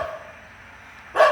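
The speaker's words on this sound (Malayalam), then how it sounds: "പിന്നെ പട്ടി കുരയ്ക്കുന്നുണ്ട്." Outside a taluk hospital at night, a dog gives one short, loud bark at the very end, after a stretch of quiet background hum.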